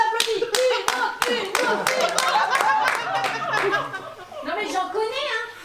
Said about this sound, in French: Non mais, je vous applaudis.